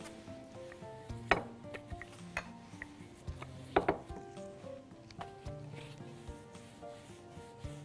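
Dough for za'atar and halloumi rolls is rolled out on a wooden surface, giving soft rubbing strokes punctuated by several sharp knocks and taps at irregular intervals, close and fairly quiet.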